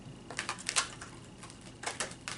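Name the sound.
shuffling cards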